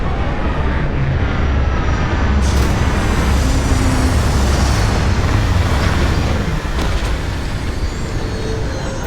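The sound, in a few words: spaceship landing in Starfield video game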